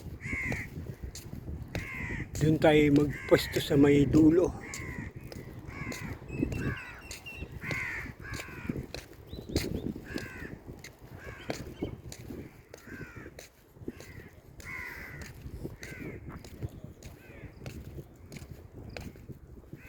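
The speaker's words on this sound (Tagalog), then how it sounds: "Daming uwak dito." Many crows caw repeatedly in a noisy flock by the seashore in Jizan, Saudi Arabia, some close and loud, while a person briefly speaks early on.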